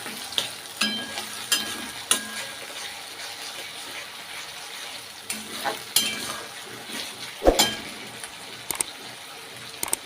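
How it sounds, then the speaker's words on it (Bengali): Shredded cabbage frying in a pan and being stirred, a continuous close sizzle broken by repeated scraping and clinking knocks of the spoon against the pan. "ভালো করে ভেজে নেবো।"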